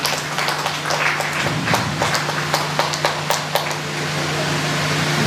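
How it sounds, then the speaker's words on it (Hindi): A crowd at a Bhagwat Katha religious gathering claps loudly and steadily to welcome a local councillor, a dense patter of applause over a low constant hum. "मैं चाहूंगा जोरदार ताली से स्वागत करिए"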